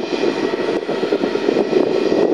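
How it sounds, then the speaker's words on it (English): A large plane at an airport at night gives off a loud, steady jet engine roar with a broad rushing texture, close and continuous without talk. "It's a fairly sizable plane, obviously."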